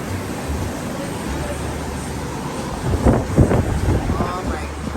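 Wind gusts outdoors in Times Square, New York, roaring steadily across the microphone, with a stronger, louder burst in the middle and a muffled urban bustle underneath.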